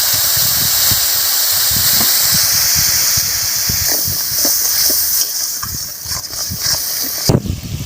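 Water hitting a hot pan with turmeric and chili powder for shol fish curry with man kochu, giving a loud, steady steam hiss with scattered crackles throughout.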